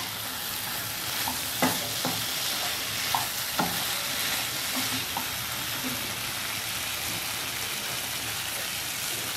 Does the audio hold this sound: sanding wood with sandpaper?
no